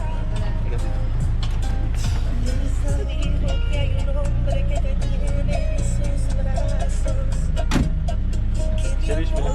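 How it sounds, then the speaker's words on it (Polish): Old vintage car working as a shared taxi in Cuba, its engine rumbling low and steady through the cabin with rattles and mechanical clunks, a sharp knock near the end, while people talk inside. "To jest nasz samochód do Cienfuegos. Jedziemy takim oldtimerem."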